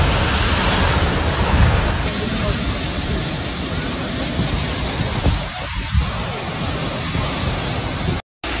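Steady, dense thunderstorm rain in Metro Phoenix roars across the whole span, a broad hiss with no let-up, and the sound briefly cuts out near the end as the power goes out.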